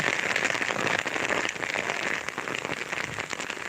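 Heavy April downpour in Ratchaburi, Thailand, a dense steady roar of rain hammering a surface, continuous and loud throughout with no voices.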